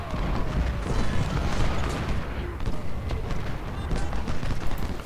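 Parrott rifled cannons in the Civil War strategy game Ultimate General, set at Bayou Fourche, fire amid a continuous, dense roar of battle with booms and gunfire layered over one another, loud and unbroken throughout.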